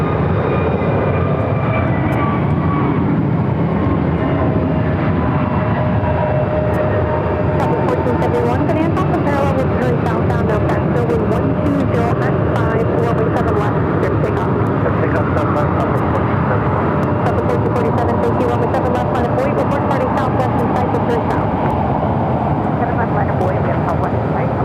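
A Frontier Airbus A320neo airliner taxis at Phoenix Sky Harbor airport, giving a steady, continuous jet engine whine and rumble throughout, with a voice talking over it.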